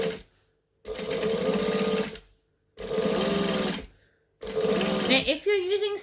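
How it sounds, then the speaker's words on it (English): Sewing machine top stitching vinyl an eighth of an inch from the edge, three loud steady bursts of motor hum with short pauses between them, with a brief rattle or squeak at the end. "So I'm top stitching 1/8 of an inch from the blue on top."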